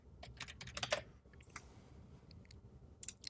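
Bursts of quick, crisp keystrokes on a computer keyboard during a Minecraft session, clustered in short flurries with pauses between, close and fairly quiet against a low background hum.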